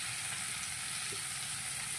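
Onions, green chillies and curry leaves fry in a pan for a hotel-style potato palya, a soft, even hiss of sizzling oil throughout, faint and without voices.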